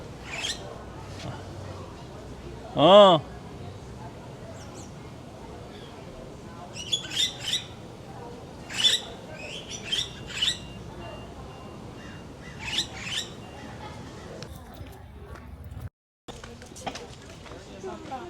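Scattered loud squawks and chirps from birds at a zoo ring out in short bursts over a steady background hum, with people talking quietly nearby.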